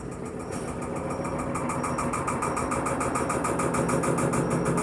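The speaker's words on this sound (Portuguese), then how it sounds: "A máquina ainda tá fazendo barulho." Electrolux Perfect Wash 16kg washing machine spinning with sneakers inside while shaking: a steady loud whirring drone with a rapid, regular rattling thump throughout, close by and constant.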